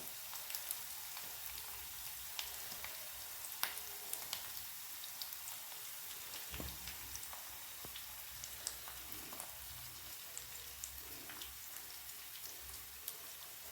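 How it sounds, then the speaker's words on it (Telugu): Boneless, skinless fish pieces frying in hot masala-coated oil, a steady fine crackle and sizzle with scattered pops, close and continuous, with no talking. "ఇది మొత్తం ఆయిల్లో వేగిపోయింది కదా ఇప్పుడు ఫిష్ ముక్కలు వేసేసుకుందాం ఒక్కొక్కటి"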